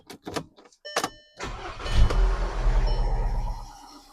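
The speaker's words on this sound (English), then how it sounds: "Let you hear what this non-diesel gas engine sounds like." A 2012 VW Tiguan gasoline engine with low oil pressure starts up after a few brief clanks and settles into a loud, close, steady rough idle with a diesel-like clatter.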